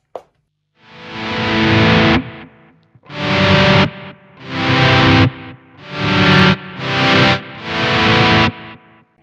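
Electric guitar played through a pedalboard with delay engaged, ringing out six loud, distorted sustained chords in a steady rhythm with no talking.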